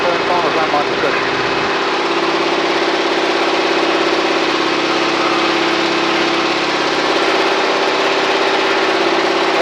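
A North American Harvard aircraft's radial engine drones loudly and steadily in a climb at 2,000 RPM, heard from inside the cockpit, with a voice briefly audible over the constant roar.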